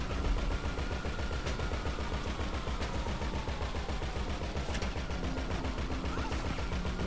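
Sustained automatic gunfire in GTA V free roam, rapid continuous bursts fired at a vehicle, loud and dense throughout with sharper impact cracks now and then.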